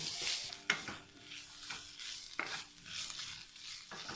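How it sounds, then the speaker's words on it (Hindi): Cubed pre-boiled chicken stirred in a pan and lightly fried, gentle sizzling broken by several sharp scraping strokes of a spoon against the pan, close and intimate, with no talking. "चिकन को हमने थोड़ी देर ही चलाया है और चिकन भी हमारा तैयार हो गया है। इसको हमने भूनना नहीं है बल्कि हल्का सा फ्राई करना है।"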